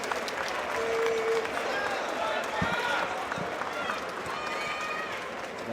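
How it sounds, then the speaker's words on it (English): Crowd applause and cheering at a boxing fight night once four rounds are over, a steady dense roar of clapping and voices with a few sharp whistles, loud and continuous throughout. "let's make some noise. Big round of applause for everyone here."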